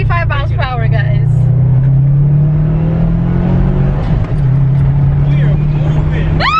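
A car engine drones loudly and steadily from inside the cabin, its pitch creeping upward as it accelerates hard at around 25 mph, with excited voices talking over it.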